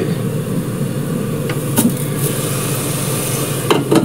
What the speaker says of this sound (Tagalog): At ito, pag kumulo na siya, ihuhulog ang kundol.